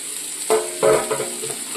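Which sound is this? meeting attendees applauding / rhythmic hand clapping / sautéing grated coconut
sautéing grated coconut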